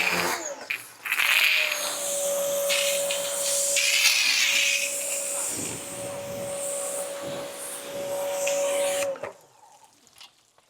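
An RV pump runs close by with a steady whining hum over a hissing rush of water. It holds for several seconds, then cuts off near the end, leaving quiet.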